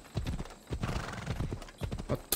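Horse hooves clip-clop at a steady riding gait in the video game Assassin's Creed Odyssey, close and clear, with a brief whinny-like tone and no talking.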